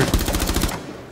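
Automatic rifle fire in Rainbow Six Siege, a loud close burst of about eight rapid evenly spaced shots that cuts off and leaves a short fading tail.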